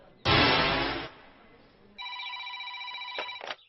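A telephone rings in a house, a loud electronic trill sounding in two separate bursts, with a brief pause between them and no talk over it.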